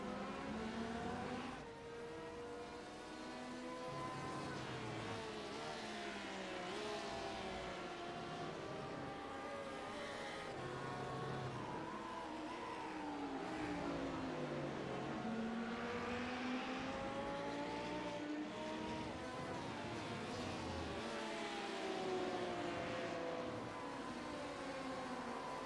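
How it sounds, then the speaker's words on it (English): A pack of race cars in an endurance series event at Twin Ring Motegi, with multiple engines droning and rising and falling in pitch as they pass and overlap, steady and moderately distant throughout. "There's quite a gaggle of cars here."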